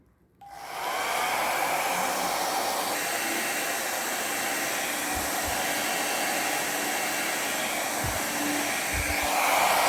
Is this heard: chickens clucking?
no